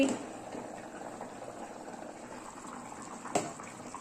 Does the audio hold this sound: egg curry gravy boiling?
yes